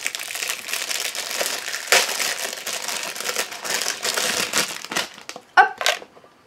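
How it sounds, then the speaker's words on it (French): A packaged item is unwrapped close up, with bursts of crinkling and crumpling plastic and paper, a few sharp tearing rustles, and a brief louder crackle near the end, with no speech. "Je vais le déballer."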